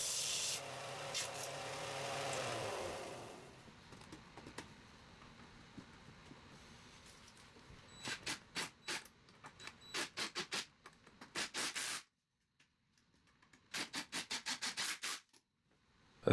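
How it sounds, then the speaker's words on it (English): A power sander grinds a wooden 2x4, taking a corner off so the piece fits: a loud, steady rasping run first, then shorter scratchy bursts separated by pauses and brief silences. "For the second set, I needed to bust out the sander and chop the corner off for it to fit."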